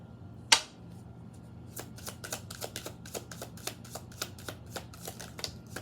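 A deck of tarot cards is shuffled close by, opening with one sharp snap followed by a quick, rhythmic run of riffling flicks, quiet and alone.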